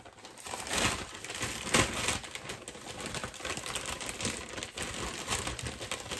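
A birthday gift package is cut open with crinkling, rustling and crunching of plastic and cardboard, close and steady throughout.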